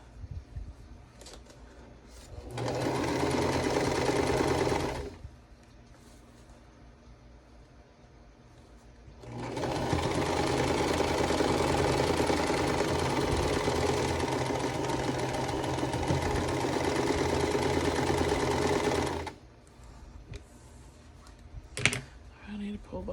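A sewing machine stitches a vintage-style quilt block in two runs of rapid, even clatter, first a short burst and then a longer stretch of about ten seconds, with quiet pauses between them.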